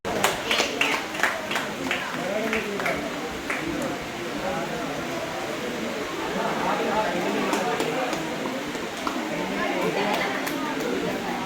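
At an Onam celebration in Kerala, an outdoor crowd claps to cheer on contestants at the festival games, with sharp claps at first, then sustained applause and crowd chatter under loudspeaker talk.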